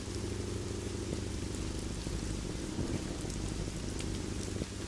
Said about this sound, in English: it's raining in Japan